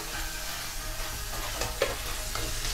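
Potatoes frying in a pan give a dense, continuous sizzle close up, with faint stirring scrapes rising briefly near the middle.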